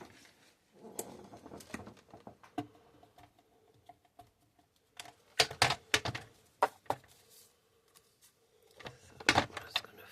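A paper trimmer cuts down card stock for a handmade agamograph card, giving a run of close, dry clicks and slicing snaps in scattered bursts, with louder clusters near the middle and end and no talking.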